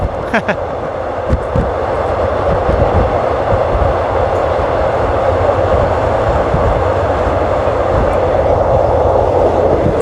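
Continuous heavy rolling roar inside a train travelling from Krung Thep Aphiwat station to Don Mueang, close and loud, with scattered rhythmic clacks from the wheels on the track.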